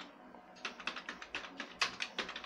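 Typing C code on a computer keyboard: a run of quick, uneven key clicks, close and fairly quiet, starting after a brief pause and continuing alone.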